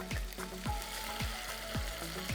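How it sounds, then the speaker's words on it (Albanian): Onions frying in oil for an Albanian old-style soup with fide, a quiet steady sizzle broken by a few regular soft scraping strokes, with no voices. "I veni qep për t'i fërguar pak"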